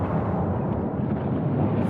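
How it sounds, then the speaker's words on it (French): An Icelandic volcano erupts in a loud, continuous, deep rumbling roar with a rough, churning texture. It stays heavy and dense throughout the short stretch, with no voices. "Avec agilité, ce drone esquive plusieurs séries d'explosions."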